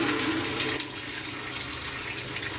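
Pressurized water hisses and rushes steadily from a backed-off fitting on a rain harvester tank being cleaned out after a fire, a continuous broadband spray with no voices.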